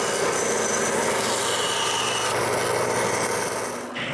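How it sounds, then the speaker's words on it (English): A cheap scrubbing brush's handle is being cut through, giving a continuous loud rasping saw stroke close by with no talk, easing off right at the end. "So I went to the dollar store and bought 2 cheap scrubbing brushes and cut their handles off."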